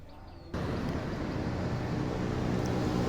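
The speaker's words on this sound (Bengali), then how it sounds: "গাড়ির শব্দ হাইওয়ে দিয়ে সবসময় এরকম গাড়ি মানে ব্যস্ত থাকে রোডগুলা" A steady, broad roar of highway traffic passing nearby, rising after a quieter start and continuing without pause.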